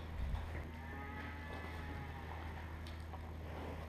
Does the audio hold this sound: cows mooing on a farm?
yes